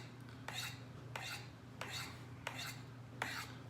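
A Shirogorov knife with an Elmax steel blade is drawn across a sharpening stone in five evenly spaced raspy strokes, close and clear over a low steady hum.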